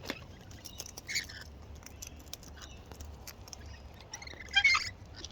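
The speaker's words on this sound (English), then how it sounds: "Oh, squeaky bird." Wild Australian birds give faint, high squeaky chirps in short scattered bursts over a soft background hiss, a few calls louder near the end.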